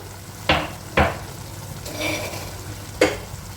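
A spoon stirring methi curry with chili powder, coriander powder, garam masala and cashew paste in a pan: three sharp scraping knocks, then a softer sizzling swirl between them, close by.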